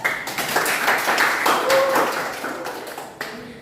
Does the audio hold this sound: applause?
yes